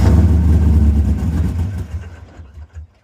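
An old car parked since 1999, its engine run hard on a heavy throttle, a loud close low rumble that swells then fades and sputters down toward a stall.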